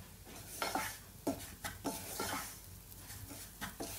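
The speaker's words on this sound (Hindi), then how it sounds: "आप हल्का सा मिक्स करते जाएं ताकि चीनी अच्छे से डिजॉल्व हो जाए" A spoon stirs sugar syrup in a pot on medium heat while making suji halwa, giving a series of close, irregular scraping clinks against the metal with a faint background hum and no talking.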